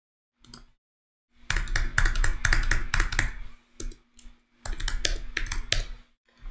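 Fingers tap out a credit card number on a computer keyboard, close crisp key clicks in quick bursts separated by short pauses.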